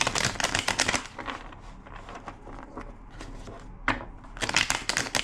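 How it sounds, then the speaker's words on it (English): Two quick bursts of riffling tarot cards, one at the start and one at the end, with softer shuffling and handling noises in between. "2 more shuffles."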